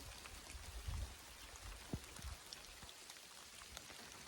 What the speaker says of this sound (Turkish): Yağmur yağıyor, yağmur yağıyor.